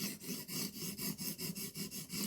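An 80-grit sharpening stone re-profiling a knife blade on a TSPROF Blitz 360 sharpener, a close, steady rasping grind in rapid, even back-and-forth strokes, about four per second, with no voice.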